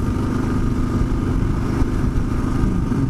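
A Kawasaki KLR 650 adventure motorcycle's engine labors steadily as it climbs a gravel forest road, a loud, continuous mid-pitched drone with a rough, pulsing texture held at constant effort throughout.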